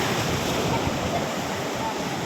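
A steady, loud roar of sea surf washes in with no breaks at Mohona sea beach. It sounds like waves rolling close by.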